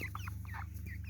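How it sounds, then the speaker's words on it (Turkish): Young chickens, about forty days old, cluck in quick, chattering bursts nearby, several short calls over a steady low background hum. "Tavuk."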